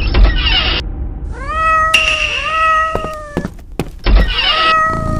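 A cat returning home after two months meows loudly and close by in several drawn-out, rising calls, with thumps and a door-like clunk around them.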